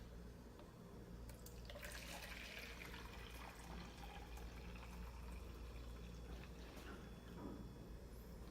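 Heated water is poured into a laboratory beaker in a steady, quiet stream that trickles and splashes for several seconds, with no talking.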